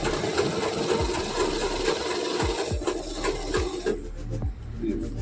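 A sewing machine runs steadily while stitching, a dense continuous whirring hum with fine rapid texture, close and unbroken, softening slightly near the end.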